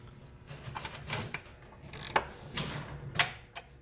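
Metallic clicks and ratcheting snaps ring out close by as a Zeus-type quarter-turn fastener is turned and seated on a Yamaha R1M fairing, among light handling rustle, with one sharp click near the end.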